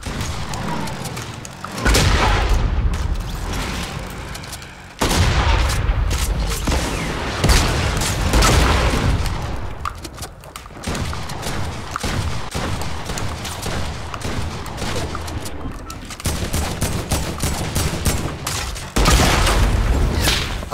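Repeated explosive blasts from a proximity grenade launcher in Fortnite, loud bursts landing in clusters with heavy booming thumps and crackling debris over about twenty seconds, no talking.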